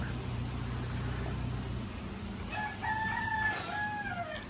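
A rooster crows once, a clear rising-and-falling call at moderate distance over steady background hum and low rumble on a farm shed.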